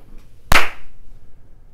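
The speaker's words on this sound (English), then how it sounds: "That was a good clap" One sharp, loud hand clap rings out close by, a single crisp crack with a brief decay into near silence.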